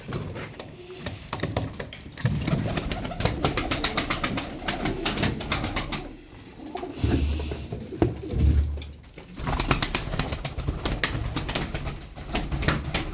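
Pigeons coo and rustle nearby, their low throaty calls repeating over a busy backdrop of flapping and fluttering.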